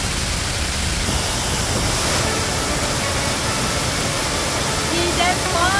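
Hidden Falls waterfall in Luisiana, Laguna roars in a steady broad rush of falling water, loud and continuous, with faint voices appearing near the end.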